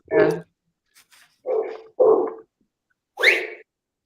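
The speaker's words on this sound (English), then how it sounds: "that's Arno's dog" A dog gives several short, low barks and grumbly woofs, close by, separated by brief silences.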